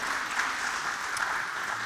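Audience at a chamber of commerce monthly membership breakfast meeting gives a big round of applause for the breakfast sponsor, a dense, steady clapping that fills the short moment with no talk over it.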